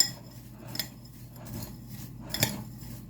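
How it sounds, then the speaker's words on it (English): Fried onions and panko breadcrumbs being mixed in a bowl for a spinach casserole topping, with soft scraping and a few light clinks of a utensil against the bowl, quiet and close. "Mix them all together."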